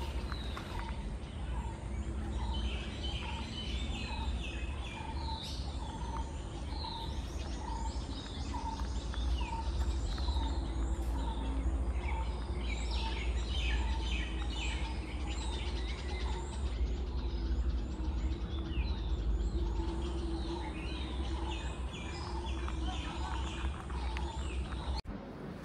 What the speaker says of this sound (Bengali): চারিদিকে একটা নিস্তব্ধ মায়াবী পরিবেশ, আর শুধুই পাখির কলরব।